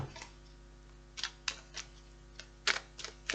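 Soft, brief papery flicks of shuffling oracle cards, a scattered handful of quick riffles over a faint steady hum, close by with no talking.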